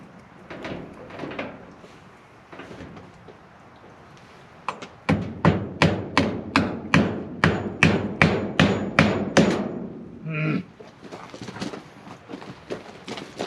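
A rapid series of sharp hammer strikes on nails during a DIY garage build rings out, about a dozen evenly spaced blows, followed by a metallic clink and lighter tapping.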